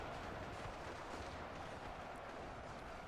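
Massed gunfire in the video game Ultimate Epic Battle Simulator II, a dense, continuous, rumbling barrage of overlapping shots and booms from a large battle with tank support, faint and distant-sounding, without a break.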